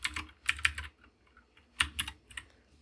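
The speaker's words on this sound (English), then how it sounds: "Let's type this." Typing on a computer keyboard, close and fairly quiet, in short clustered bursts of key clicks with brief pauses between them.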